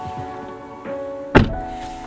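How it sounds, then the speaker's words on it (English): A car door is pulled shut during winter car camping, a single solid, loud thunk close by, followed by a low steady hum inside the cabin. "I'm gonna close my door"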